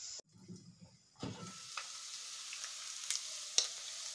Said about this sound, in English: So we cover that and let it cook for 3 minutes.